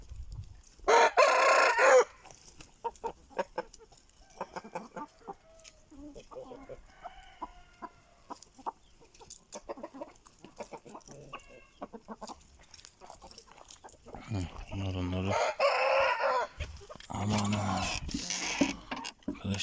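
Aseel chickens on a farm cluck while a rooster crows loudly near the start and again toward the end, with someone talking intermittently between the calls.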